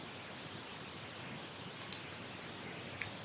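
A few sharp mouse clicks, two close together and one more a moment later, over a quiet steady hiss while a security group is being created in AWS.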